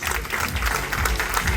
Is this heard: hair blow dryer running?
no